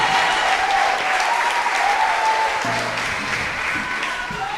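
Applause from a church congregation during a Spanish-language sermon, a dense steady wash of clapping with no voices.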